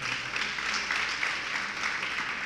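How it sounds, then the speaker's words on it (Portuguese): A church congregation applauds Jesus while rising to its feet, a steady wash of clapping that holds even and dense throughout without pauses. "Quem está aqui, dá um aplauso a Jesus, fica de pé."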